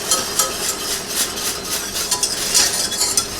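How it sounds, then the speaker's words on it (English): A whisk beating stock into gravy in a pan, quick rhythmic metallic scraping and clinking against the pan over a faint sizzle, continuous and close. "we're going to go ahead and add our stock. And whisk that."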